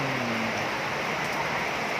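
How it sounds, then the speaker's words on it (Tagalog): Steady heavy rain falls with a broad, even hiss that holds at constant loudness throughout, with no voices. "Ayan, tuloy-tuloy pa rin ang ulan"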